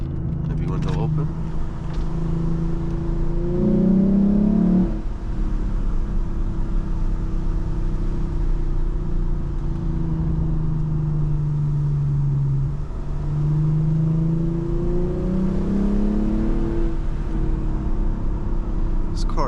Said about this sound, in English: I'm gonna miss this naturally aspirated engine. It sounds so freaking good.